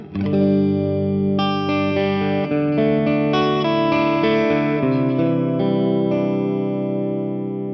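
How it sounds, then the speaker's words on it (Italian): A sustained guitar chord played with a light touch through a Protein V4 dual overdrive pedal, gently overdriven, notes ringing out one after another and blending into a warm, steady tone. "Senti come con un tocco leggero il suono rimane pulito e cristallino."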